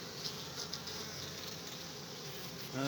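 Honeybees buzz steadily around an apiary hive, a continuous close drone of many insects with no voices.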